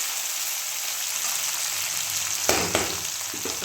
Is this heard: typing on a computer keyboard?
no